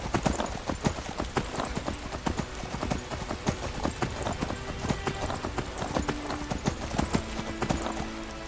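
Horse hooves clip-clopping in the video game Skyrim Anniversary Edition, a loud, fast and continuous run of hoofbeats filling the whole stretch with no pauses.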